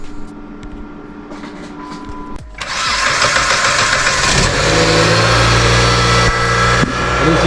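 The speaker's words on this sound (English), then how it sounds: "we are going to start the car" The engine of a 2009 Jeep Patriot cranks and starts, then settles into a loud, steady idle close by, with a few faint clicks and clunks just before the start.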